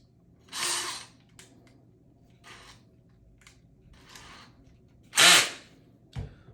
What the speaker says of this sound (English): Start by grabbing your drill driver.